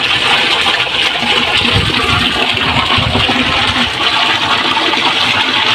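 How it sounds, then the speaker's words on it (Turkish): Water gushes loudly and steadily from a stone madrasa fountain at Ladik, fed from Ladik Mountain, a close continuous splashing rush with no talk. "Ladik'teki medrese çeşmesi burasıymış. Buradan suyumuzu dolduracağız şimdi. Suyu göstermek istiyorum size."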